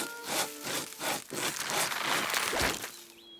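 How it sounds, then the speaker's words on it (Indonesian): A saw rasps through grass in an animated children's cartoon, with rhythmic back-and-forth strokes, fairly quiet and close, ending in a brief high squeak. "Aku ambil gergaji."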